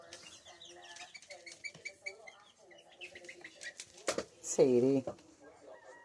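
Baby chickens cheep and peep in short bursts while a cat is nearby. A loud, sharp call rises near the end, and a person speaks softly over the birds.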